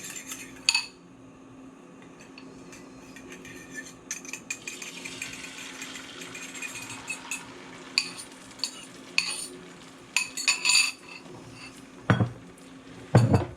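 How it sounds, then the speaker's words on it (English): Eggs for an omelet being stirred in a bowl, a utensil scraping and clinking against the sides in quick irregular bursts, with faint frying sizzle nearby and no talking. "I grab the eggs and I start stirring again"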